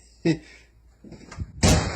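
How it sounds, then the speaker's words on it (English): An indoor door being shut, heard as two distinct thumping knocks about a second and a half apart, with faint voices murmuring in between. "you shut that door"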